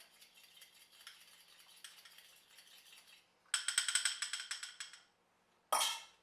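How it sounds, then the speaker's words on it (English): Eggs whisked for a banana meringue pie, a faint, soft scraping followed by a louder burst of quick rhythmic clinks against the bowl, then a short sharp clatter, with no voices. "So now we whisk it up all together so we get used to the temperature"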